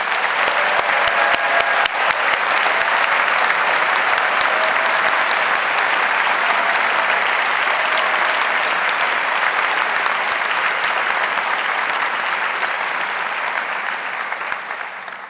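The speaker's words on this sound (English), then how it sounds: "join together in applauding your achievements and your excellence." A large honors convocation crowd of thousands gives sustained, dense applause for students, steady for about fifteen seconds and tapering slightly at the end.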